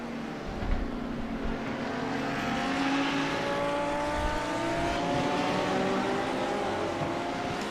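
Sim racing cars on the Daytona banking during a 12-hour endurance race, a steady, loud engine drone with rising and overlapping tones as prototypes pass slower GT3 traffic.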